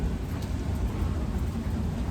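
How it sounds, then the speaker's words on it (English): Rain drums steadily on a metal roof during a storm, a dense continuous patter with low rumbling thunder rolling underneath throughout, close and fairly loud, no voices. "And there's a little bit of thunder as well."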